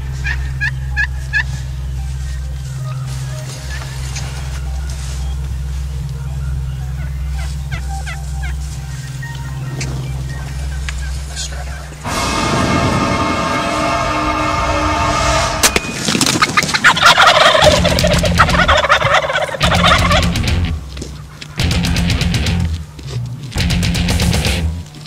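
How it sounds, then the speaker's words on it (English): Wild turkeys gobble during a spring hunt in Nebraska, loud rattling calls cutting in repeatedly over steady outdoor background, with several bursts following in quick succession in the second half. "how do we get the gobblers behind the one we want to"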